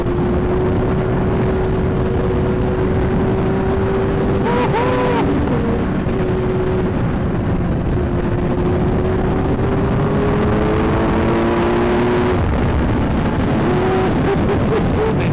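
A Kawasaki Z900 motorcycle with a loud aftermarket exhaust runs on a night ride, giving a constant heavy engine drone with rising and falling revs and gusting wind, under scattered talk.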